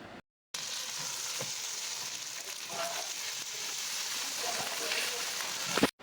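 Sliced potatoes fry in a pan with garlic ginger paste, a dense, continuous close sizzle that starts after a brief silence and holds steady to the end.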